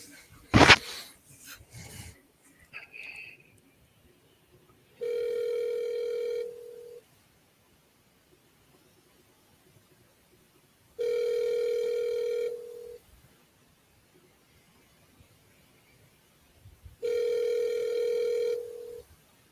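On an unanswered phone call, a ringback tone sounds three times, each about two seconds long and spaced several seconds apart, heard faintly through the line after a brief clatter at the start.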